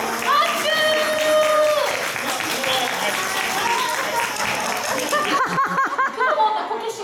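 Audience applause mixed with chuckles and laughter at a culture festival stage show where the mascot Kumamon tries Higo chonkake spinning-top tricks, sustained and fairly loud over faint music-like tones.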